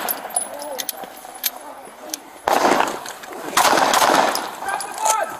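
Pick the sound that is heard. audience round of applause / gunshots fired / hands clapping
gunshots fired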